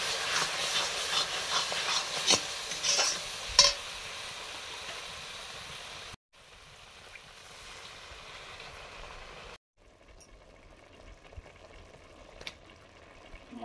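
Spices with ginger, garlic, chilli, turmeric and red chilli powder mixed in water fry in a pan for a Bengali meat curry, giving a close, steady sizzle and hiss with occasional stirring clicks. The sizzle quietens in two later segments.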